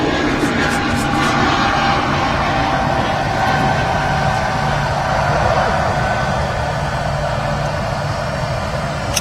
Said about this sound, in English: here is the Qatar 777-300 ER on short final into Manchester Airport